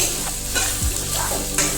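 Ginger-garlic paste fries in hot oil in a pan for an Assamese-style pork curry, giving a close, continuous sizzle broken by a couple of brief stirring scrapes.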